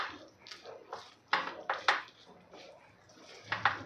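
A barfi mixture quickly mixed into melted jaggery in a pan for fasting sweets: a quiet series of sharp metallic clinks and scrapes from a spoon against the pan, in irregular close bursts.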